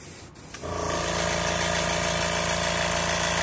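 Spray gun painting a Magnum 8XD fishing lure: after a brief click, a steady close hiss of air spraying starts and holds evenly to the end.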